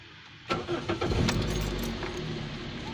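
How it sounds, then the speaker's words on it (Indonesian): A car engine cranks over with a brief rattle of keys and starts, then settles into a steady, smooth idle after an oil change using cooking oil mixed into the engine oil. "Sekarang kita hidupkan."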